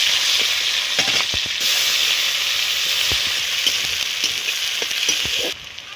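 Chopped onion fries in a pan with crab pieces, a loud, close sizzle with sharp spatula scrapes and knocks against the pan, steady until it eases slightly near the end.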